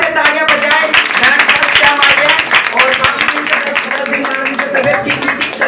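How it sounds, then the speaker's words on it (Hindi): A congregation at a Sunday worship meeting in a church claps loudly, with sharp, rapid hand claps layered over voices and cheering that continue energetically throughout. "अरे जोर से तालियां बजाएं।"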